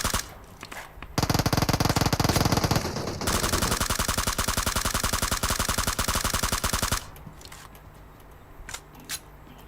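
Rapid shotgun fire in PUBG Mobile, a dense run of loud, evenly spaced blasts with no pause between them, alone and close.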